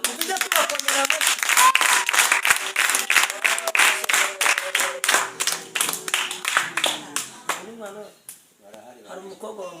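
People clap together at a family Christmas gathering at home, sharp rhythmic claps repeating steadily, then slowing and thinning out before voices take over at the end.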